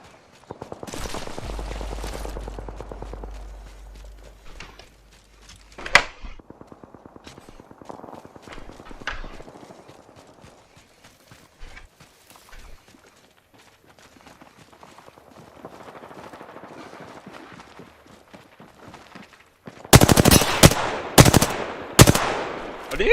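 Gunfire in a video game, with scattered shots and footsteps early on, then a loud cluster of rapid bursts near the end, heard without talking.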